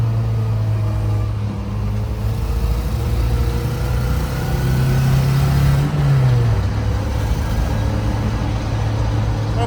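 A 2001 Maruti Gypsy drives along a road, its engine droning steadily and loud throughout with a pitch rise and fall as it picks up speed, road and cabin rumble underneath.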